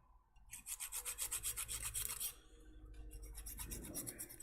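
An old hacksaw blade scrapes rust off metal in quick rhythmic back-and-forth strokes, a close, gritty rasping that pauses briefly and then resumes.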